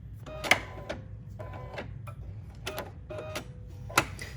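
A sewing machine stitches an applique flower with a small stitch, giving a quiet mechanical whir with a few sharper clicks at a soft, close level.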